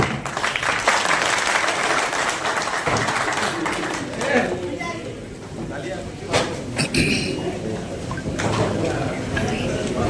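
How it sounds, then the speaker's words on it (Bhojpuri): Audience applause and cheering at a birthday celebration for Bhojpuri star Kheshari Lal Yadav, a dense crowd clapping steadily through most of the stretch while a loud voice talks over it through a sound system. "जोरदार तालियां हो जाए इस"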